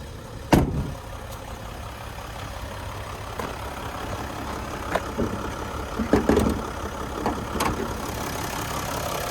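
A 3-liter turbo diesel V6 in a 2021 Mercedes-Benz Sprinter 2500 4x4 conversion van idles with a steady low rumble, broken by a few sharp clicks and knocks close by.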